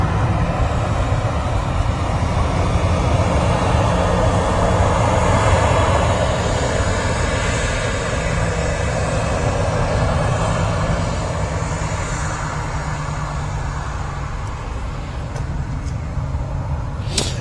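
Ryanair jets at Manchester Airport, one departing while another taxis in, a broad steady roar of engine noise held loud and continuous throughout, easing slightly near the end, with no voices.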